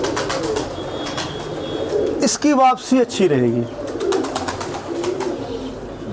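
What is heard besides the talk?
pigeon cooing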